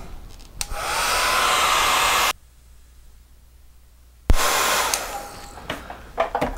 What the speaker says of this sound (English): I'm going to get my hair dryer out